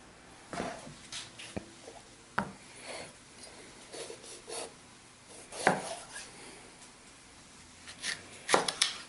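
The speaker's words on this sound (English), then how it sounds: "Cut the peppers in quarters." A kitchen knife slicing bell peppers into quarters on a cutting board, a quiet scene of scattered crisp chops and rasping strokes spaced irregularly, with no talk.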